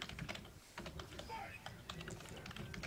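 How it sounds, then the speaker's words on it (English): Rapid clicking keystrokes from someone typing on a computer keyboard come through a noisy online fighting game lobby in Ultra Street Fighter IV, steady and continuous throughout. "Someone's typing an essay."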